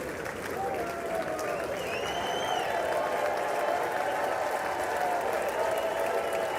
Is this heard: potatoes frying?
no